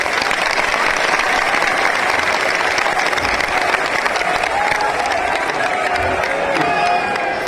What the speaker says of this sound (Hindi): सब लोग ताली बजाइए